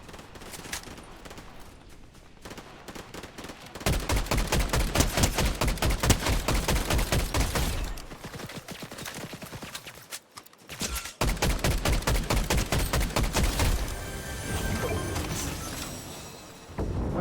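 Rapid bursts of automatic gunfire in Fortnite crackle loudly and densely, with sustained volleys broken by brief pauses and a sharp crash near the end.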